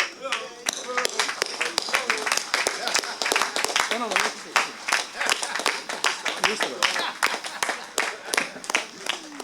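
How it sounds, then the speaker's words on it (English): An audience at a district annual report and New Year's party gives a standing round of applause for Premier Andrew A. Fahie, with sharp, scattered claps close by under steady talk. "let's give him a resounding round of applause"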